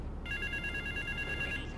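Payphone ringing in Grand Theft Auto 3 on PS4 at West Belleville Park: a steady electronic trill rings continuously for about a second and a half, clear and fairly close over a low game background rumble.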